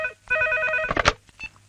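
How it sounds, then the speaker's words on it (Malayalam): A telephone rings with a steady electronic tone that holds for about half a second, then a few shorter bursts follow, close and fairly loud in an indoor scene. "ഫോൺ എടുക്ക."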